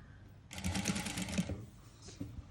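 An electric sewing machine stitches a saree blouse in one quick, fairly quiet run of rapid needle clatter lasting about a second, with a faint knock afterward.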